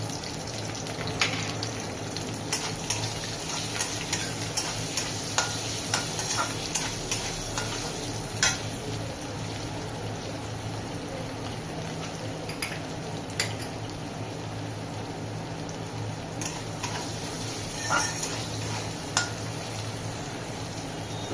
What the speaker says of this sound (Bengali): এই রসুন লঙ্কাগুলো ভাজা ভাজা হয়ে গেলে তারপরে আমি সর্ষে দিয়ে দিব